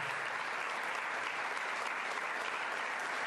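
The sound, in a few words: congregation applause at a church event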